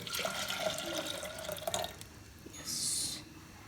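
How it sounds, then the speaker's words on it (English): Water pours steadily into a cooking pot of sambar dal, a faint, soft splashing trickle that fades before a brief brighter hiss near the end, with no talking over it. "Then I'll be adding the water to it."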